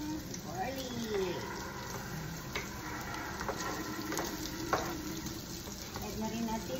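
Garlic frying in a pan while cooking spaghetti and meatballs, a steady close sizzle with occasional stirring scrapes and clicks, under a voice talking.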